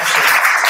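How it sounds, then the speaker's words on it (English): A brief, dense burst of audience applause at a politics summit, close and steady throughout with no gaps. "round of applause for everyone"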